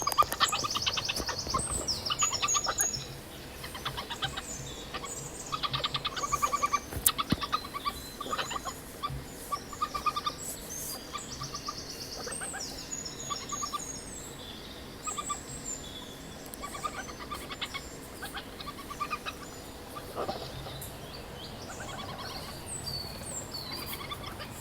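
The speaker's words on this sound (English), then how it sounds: "This is the sound of badger cubs harassing their mum for food." Badger cubs harassing their mother for food, a quiet, steady run of squeaky chirps, chitters and gobbling calls over faint rustling, continuing throughout with no talk.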